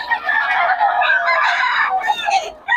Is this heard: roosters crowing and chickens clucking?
yes